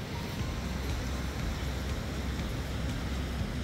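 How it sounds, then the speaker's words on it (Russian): Steady, loud broadband rush of waterfalls tumbling through a mountain gorge, a continuous close roar filling the scene with no voices over it. "Водопады, везде водопады."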